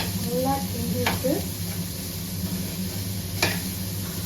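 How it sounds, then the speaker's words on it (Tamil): Carrots and beans tossed into a pan for a poriyal and stirred, a steady sizzle with a couple of sharp scraping strokes of a spoon, close by, with no talk. "அதுக்கப்புறம் கேரட் பீன்ஸ் அதெல்லாம் போடுறேன். போட்டு நல்லா கிண்டுறேன்."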